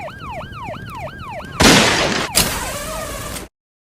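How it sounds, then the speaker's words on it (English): A police siren wails in a rapid rising-falling pattern, then a burst of loud noise and crashing swamps it before everything abruptly goes silent. "Siren's coming."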